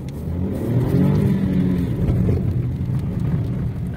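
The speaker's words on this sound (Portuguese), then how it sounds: "Segura o giro do carro lá em cima quando não tá com ele." Hyundai HB20S sedan engine revving hard, rising to a loud, sustained high-rpm roar that holds for a few seconds, close up with no talking.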